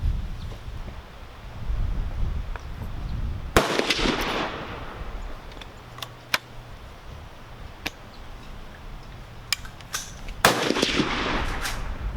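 Two sharp, loud gunshots about seven seconds apart, each with a long rolling echo, fired from a Savage Model 24 combination gun in 30-30 and 12 gauge at an outdoor range, with faint wind and small clicks between.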